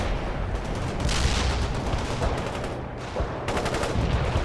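Sustained gunfire in World in Conflict, a real-time strategy game, during an insurgents mission: dense rattling bursts of automatic weapons and heavier booms keep going steadily at close range, with no pauses and no voices.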